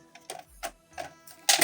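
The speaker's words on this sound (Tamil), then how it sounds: "பிரிண்டரை வந்து பவர் ஆன் பண்ணணும் ஃபஸ்ட்டு" HP LaserJet Tank 1020W wireless printer powering on: a few short mechanical whirs and clicks spaced apart, ending in a louder, brighter burst of motor and paper-path noise, heard close with no talking.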